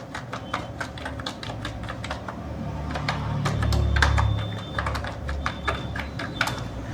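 Rapid, steady clicking of a computer keyboard as an email address is typed into an online exam application form, close and clear with irregular key strikes and no talk.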